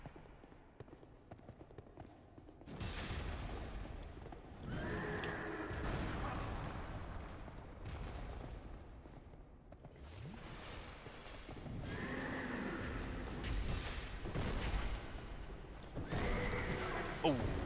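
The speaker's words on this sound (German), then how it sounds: "Ach süß. Das Pferdchen." A horse in the video game Dark Souls 2 neighs and whinnies several times in bursts, loud and close, mixed with heavy thuds and impacts, while someone talks at times.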